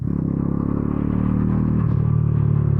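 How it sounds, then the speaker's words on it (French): A steady Bajaj Dominar NS400Z motorcycle engine idles and hums with a low, continuous rumble, close and fairly loud throughout. "je pense que tu as même entendu le son du moteur."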